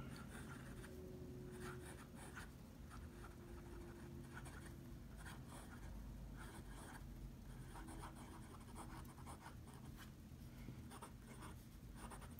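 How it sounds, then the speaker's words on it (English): Peneider LeGrande Bellezza fountain pen with a soft 18 karat gold fine nib scratching across paper, a faint, close, continuous rustle of strokes and swirls with no talking. "now let's do the Peneider LeGrande Bellezza 18 karat nib"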